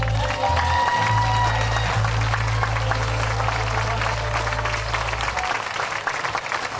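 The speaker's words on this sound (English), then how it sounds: "Give them a round of applause." A live audience applauds for firefighters at a bluegrass show, dense steady clapping with a low hum beneath, lasting several seconds before thinning out near the end.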